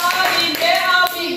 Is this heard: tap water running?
no